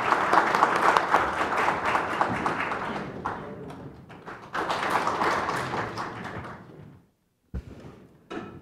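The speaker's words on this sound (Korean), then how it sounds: "박수로 맞이해 주시기 바랍니다." An audience at a Korean architecture forum claps to welcome a speaker, a dense burst of applause that fades, swells again, then drops to silence before a few thumps and taps near the microphone.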